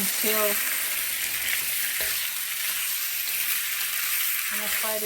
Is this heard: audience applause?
no